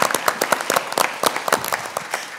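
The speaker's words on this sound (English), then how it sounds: "Let's give her a big round of applause for all the work on this" Applause from an audience at a Christmas extravaganza show, scattered hand claps at close range, loud and uneven, fading slightly toward the end.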